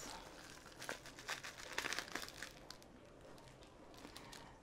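Plastic packaging of a drill set crinkles and crackles softly as it is handled and pulled open, a quiet stream of irregular rustling snaps.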